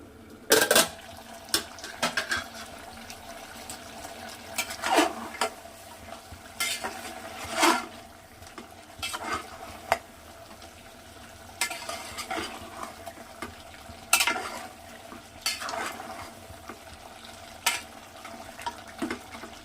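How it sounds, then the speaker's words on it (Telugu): A ladle stirs mutton biryani in a cooking pot, giving a series of separate scraping, clinking strokes at irregular intervals over a soft simmering hiss, with no voices. "ఒకసారి మూత తీసి కలుపుదామండి."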